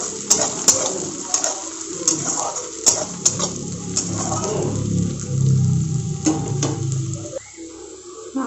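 Onion and chopped ginger frying in a pan for restaurant-style kadai paneer, with a soft steady sizzle underneath and repeated sharp clinks of a utensil against the pan, no voices.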